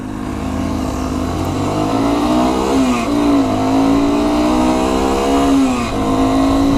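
A Sym Wolf 125 motorcycle is ridden, its small engine droning steadily, then revving up and dropping back through several gear changes, loud and close as it goes.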